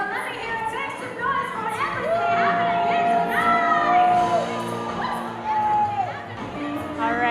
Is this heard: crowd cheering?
yes